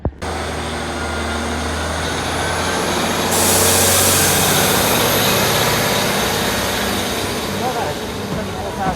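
A Class 150 two-car diesel multiple unit pulls away from the station between Calstock and Gunnislake, a loud, steady diesel engine drone that builds and brightens partway through and holds for the rest of the clip.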